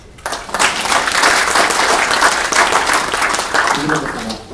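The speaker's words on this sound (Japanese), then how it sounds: "皆さん今一度拍手をお願いします" An audience at a golf lecture held with Yamaha Golf breaks into loud, sustained applause, dense clapping that rises quickly and holds steady for several seconds, with a voice speaking over it near the end.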